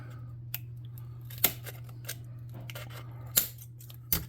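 Scissors snip through paper while a model locomotive is being crafted for a tabletop role-playing game. Several quiet, sharp cuts are spaced apart over a low steady hum.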